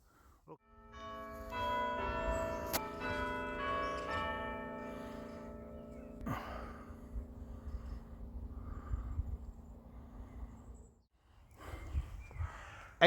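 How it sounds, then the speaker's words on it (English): Church bells ring out at Tewkesbury Abbey, a sustained chiming peal with layered tones carrying across the open air, fading after about ten seconds, with faint ambient noise and footsteps around. "You could hear the bells ringing."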